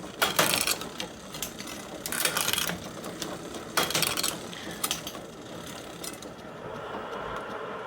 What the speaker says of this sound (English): let's go ahead and test the shifting